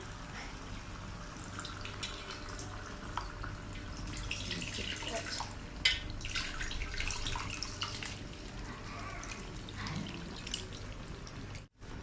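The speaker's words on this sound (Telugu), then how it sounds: "ఇప్పుడు చింతపులుసు పోసుకోవాలి" Tamarind juice poured into a pot of Telangana-style fish curry, a steady liquid trickle and splash running nearly continuously at moderate level, ending in a brief pause.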